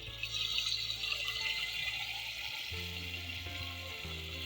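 Dal poured into a pan of sizzling smooth tomato gravy, a steady close frying hiss with wet bubbling and a few low clunks and tones partway through; no talking.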